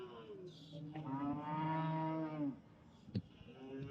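A native cattle breed at the Muthunayakkanpatti cattle market in Salem lets out a single drawn-out moo, loud and close. Fainter market noise surrounds it, with a sharp knock near the end.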